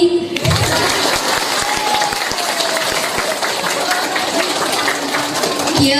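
Audience applause bursts out and carries on as dense, loud clapping from a crowd, with a few sharper individual claps and some chatter mixed in.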